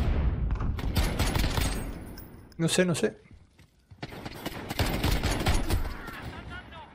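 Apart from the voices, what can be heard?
gunfire in video game Call of Duty Modern Warfare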